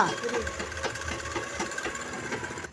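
Pedal-operated sewing machine stitching a blouse, a rapid mechanical clatter of the needle running at a steady rhythm up close while someone talks over it.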